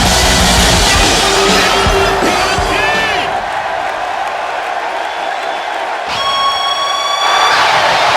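A capacity crowd in a wrestling arena cheers and roars loudly at the 1996 King of the Ring event in WWE 2K16, with whistles and whoops rising over the constant din.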